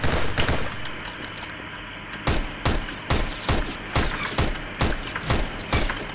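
Rapid bursts of AK rifle fire in a first-person shooter video game, loud sharp shots repeating in quick volleys with short pauses, close and dominant, with no talking.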